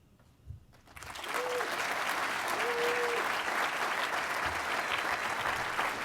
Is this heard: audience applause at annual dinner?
yes